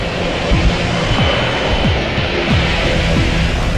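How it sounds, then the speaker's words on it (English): Jet aircraft accelerating down the runway at takeoff thrust, heard from inside as a steady, loud roaring engine rumble with low rhythmic thumps, likely wheels over runway joints, and no talk. "Takeoff thrust is set. We're hurtling down the runway."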